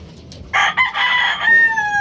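A gamefowl rooster crows loud and close, a rising burst that holds into a drawn-out, wavering final note, lasting about a second and a half with no talk over it.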